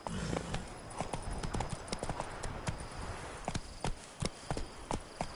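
Roach, a horse in the video game Witcher 3: Blood and Wine, trots with crisp, evenly spaced hoof clops, close and distinct, over a soft ambient bed.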